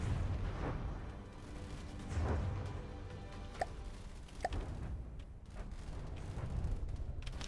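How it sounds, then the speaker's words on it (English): Bombs dropped from a heavily armored medium bomber explode in the From the Depths game, a series of dull, low booms and thuds spread over several seconds above a steady rumbling engine drone. "Second round of bombs."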